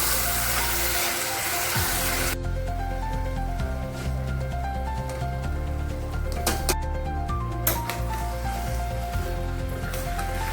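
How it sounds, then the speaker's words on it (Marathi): Vegetables are sautéed in a pan for veg paneer pulao before soaked rice goes in. A dense, constant sizzle and frying crackle runs throughout, with occasional clinks and scrapes and no talking. "भाज्या 2 मिनिटं परतवून झाल्या की मग त्याच्यामध्ये तो भिजवलेला तांदूळ आहे तो टाकणार आहे।"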